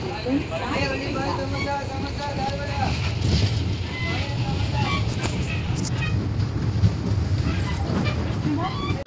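Pinakini Superfast Express train at Naidupeta station platform 1, with a steady, loud rumble of the train and station noise throughout, with people talking in the background.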